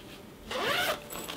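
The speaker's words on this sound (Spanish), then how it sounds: "otra cremallera con otro bolsillito" The zipper of a Vanguard Alta Fly 62T suitcase is pulled open in one quick close scraping run, followed by a short softer rasp.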